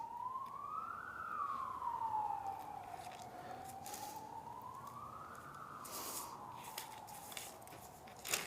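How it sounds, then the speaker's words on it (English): An emergency siren wailing outside at a distance, slow rising and falling tones sweeping up and down over faint background noise, moderately quiet and continuous with no talk. "Siren's going off."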